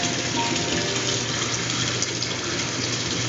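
Water gushes steadily into an aquaponics planting bed and drains back toward the fish tank, a dense, continuous splashing rush that stays loud and even throughout with no voices.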